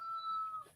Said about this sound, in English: I am hearing a rooster.